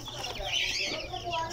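A group of newly hatched incubator chicks peep continuously, a dense, close chorus of high, thin cheeps.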